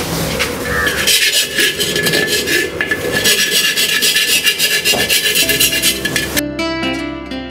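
A cut terracotta pot rim being filed and shaped, a steady close rasping scrape that runs continuously and loudly for about six seconds before stopping, with no talking.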